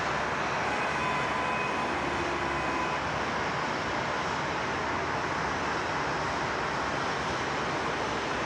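A Qantas jet at Sydney Airport gives off a broad, steady engine roar that holds at an even level for the whole stretch, with no voices.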